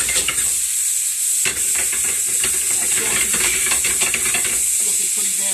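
Food frying in plenty of hot oil, a steady bright sizzle running throughout, with occasional clinks and stirring sounds layered over it.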